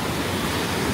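Steady broadband wash of surf rolling onto a beach in Sri Lanka, where small waves break at a spot used for learning to surf, continuous and fairly loud with a wind-like hiss and no voices.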